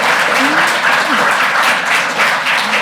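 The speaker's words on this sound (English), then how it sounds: "Can we give them a big round of applause?" Dense, steady applause from a live audience greets guests joining a panel on robotics in architecture and design, filling the whole stretch at close range with a faint voice or two just audible underneath.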